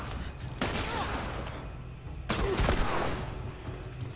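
Gunshots ring out in The Last of Us, several sharp cracks spaced apart over a steady background of rumble and scattered bursts, moderately loud.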